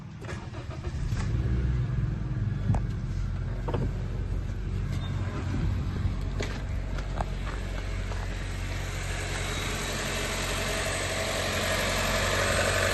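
A Honda City car engine turns over and catches, then settles into a steady, even idle that hums on without interruption.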